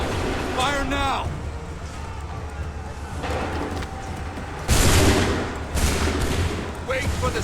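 In Assassin's Creed III, musket volleys crack out in rough bursts, with loud, dense rounds of gunfire separated by shouting voices and battlefield clamor.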